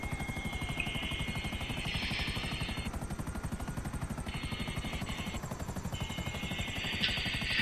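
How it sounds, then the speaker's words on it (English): A video-game helicopter chases the players, its rotor chopping in a fast, steady, loud rhythm, with a higher mechanical whine drifting in and out above it. "that helicopter is following us even though it can't see us."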